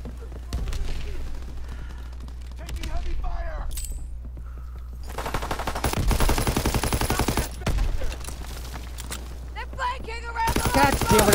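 Automatic gunfire in a shooter game, with rapid bursts of shots in several clusters, some close and loud, others quieter and more distant, over a steady low background hum.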